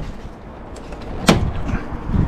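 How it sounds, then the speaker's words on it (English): A lower headlamp bracket from a Smart Fortwo 451 drops onto a workshop floor, landing with one sharp clatter midway through a quiet stretch of faint background noise. "that thing that just fell on the floor was the lower bracket"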